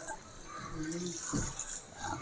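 A small amount of water is poured into a cooking pot of sautéed chayote shoots, giving a soft, steady trickle at low volume with a brief voice partway through.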